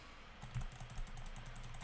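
Quick, close clicking of a computer keyboard as chat is typed during a Hypixel Skyblock game, with soft irregular keystrokes running continuously and no voice.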